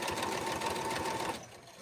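A sewing machine stitches rag quilt blocks in a fast, steady mechanical run that stops abruptly near the end, leaving only quiet room sound.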